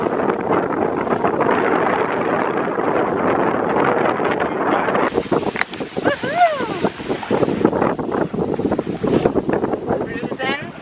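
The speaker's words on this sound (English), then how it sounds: "Sailing upwind." A sailboat beats upwind, with steady roaring wind buffeting the microphone over the rush of water along the hull. Partway through, a few brief sharp creaks and whistling tones cut in over the blustery noise.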